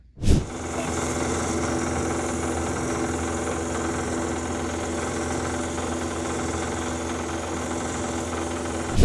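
Sanding and buffing an ocean picture stone with 3000-grit sandpaper gives a steady, close, unbroken machine-like drone with a grinding hiss that holds at an even level throughout.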